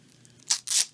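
Cricut Cuttlebug B pads are unwrapped in a few quick bursts of plastic packaging tearing and crinkling, close and fairly loud, with short pauses between the rips.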